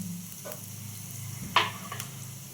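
Asafoetida and curry leaves sizzle in hot tempering oil, a steady soft frying hiss that jumps into a brief sharp spit and crackle as the leaves drop in, then settles back.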